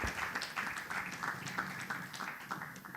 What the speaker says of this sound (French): Est-ce que nous pouvons les applaudir?